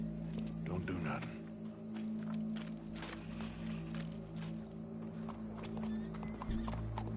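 A horse walks in the video game Red Dead Redemption 2, steady hoof clip-clops with an occasional snort or whinny over a low ambient hum, while voices talk throughout.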